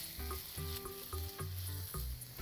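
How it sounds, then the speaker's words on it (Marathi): Sliced capsicum and carrot stir-fried briskly for instant noodles, a loud close sizzle broken by rhythmic scraping tosses about twice a second, no speech. "आणि आता हे सगळं परतून घ्यायचं आहे आपल्याला."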